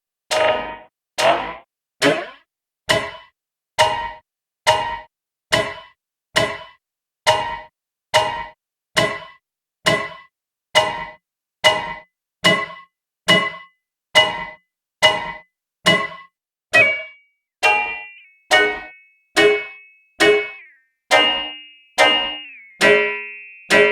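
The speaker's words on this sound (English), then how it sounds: "With very fast delay times and swell turn up, you get a metallic sound." Audiothing Mantis bucket brigade delay plugin set to very fast delay times with swell turned up, giving a steady train of about thirty loud, clanging metallic hits that ring out in a regular rhythm, some later ones carrying a sustained pitched tone.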